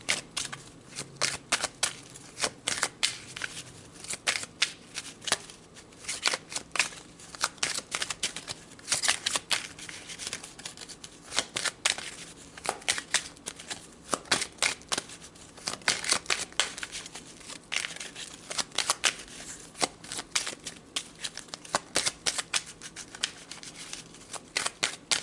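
Tarot cards are shuffled by hand in quick, irregular bursts of crisp riffling and snapping, close to the listener and alone, with short pauses between flurries.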